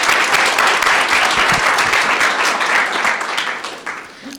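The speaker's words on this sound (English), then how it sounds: "let's give him a round of applause." A ceremony audience at a business accelerator graduation claps loudly and steadily for a graduate, the dense applause holding for several seconds before tapering off near the end.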